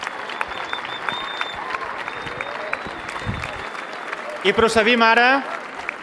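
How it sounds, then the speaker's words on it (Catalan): A crowd at an outdoor rally in a town square claps, the applause fairly distant and steady under a public-address voice, followed by a brief burst of amplified vocal sound near the end. "Un aplaudiment."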